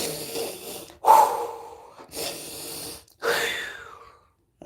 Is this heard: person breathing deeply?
yes